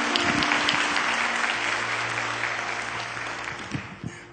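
A church congregation claps for a guest speaker, the applause full and steady at first and then gradually fading, with a few scattered claps near the end.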